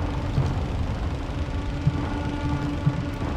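A plane falling in the World War 1 flight game Wings Remastered gives off a steady low engine drone and rushing wind, with a few soft thumps spaced about a second apart.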